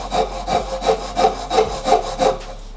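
A Japanese pull-style hand saw cuts through wood in steady, rhythmic strokes, about seven rasping passes in under three seconds, close and clear with no talking.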